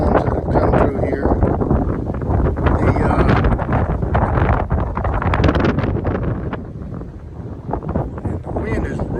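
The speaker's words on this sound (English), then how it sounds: "The wind is really, really tough right now." Strong gusty wind roars and buffets the microphone continuously at Lover's Leap, a windstorm-battered spot with broken-off trees, loud and close, with heavy rumbling turbulence throughout and a voice faintly mixed in.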